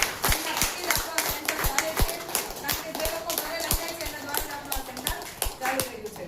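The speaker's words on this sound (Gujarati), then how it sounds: "એમના માટે જોરદાર તાળી થઈ જાય" Audience applause in a hall, a crowd clapping steadily with irregular sharp claps and a dense background patter, fairly close and loud, with no talking over it.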